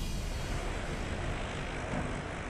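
Warplane engines drone in a steady, loud, continuous roar of propeller aircraft, suggesting planes closing in on the Japanese battleship Yamato at sea.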